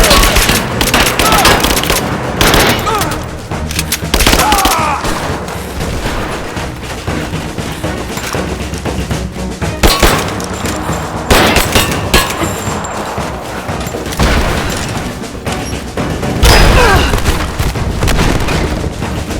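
Gunfire rattles through a combat scene in Rise of the Tomb Raider: loud, dense automatic bursts and single shots crack almost without pause, mixed with booms and the noise of the game.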